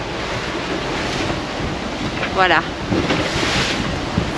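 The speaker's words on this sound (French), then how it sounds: "Ça fait 15 heures qu'on navigue avec des vagues dans la tronche." Waves slap against a sailing boat at sea in rough conditions, a constant roar of wind and water with a sharper splash midway, while someone speaks briefly over it.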